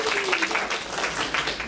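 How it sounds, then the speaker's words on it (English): Audience applause for a panel of home warranty company representatives at a real estate breakfast meeting, a dense continuous wash of many hands clapping at steady loudness. "Let's give them a round of applause."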